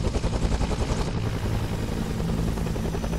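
Helicopter rotor chopping loud and close in the military video game ARMA 3, a fast steady thudding beat over dense engine roar with no talk.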